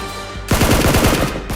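Rapid machine-gun-style bursts of gunfire in a staged Nerf gun fight, a loud close rattle that cuts in abruptly after a quiet hum and runs for about a second.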